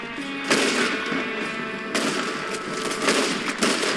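Rifle gunfire in Red Dead Redemption 2, with loud sharp shots at about half a second and two seconds leaving a ringing, crackling tail, and more scattered reports continuing over a busy background.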